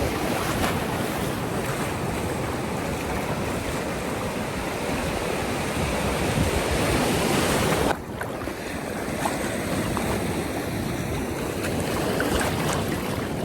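Loud, continuous roar of surf breaking on a beach near Puerto Princesa, Palawan, with wind buffeting the microphone throughout and a brief dip near the middle.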